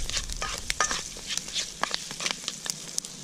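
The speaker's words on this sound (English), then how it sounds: "Now this diced up pork, I'm going to fry it till it turns brown" Diced pork frying outdoors in a cast iron Scotch bowl, a steady close sizzle with scattered crackles and pops as the meat is stirred.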